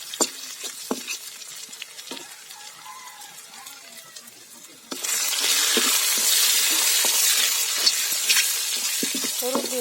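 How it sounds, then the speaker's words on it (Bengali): Chopped garlic hits hot oil and is stirred, the soft stirring and faint sizzle suddenly swelling into a loud, steady frying hiss, close up with occasional utensil clicks. "দিয়ে দিব রসুন কুচি, রসুন কুচি দিয়ে ভালো মতো নেড়ে নেব।"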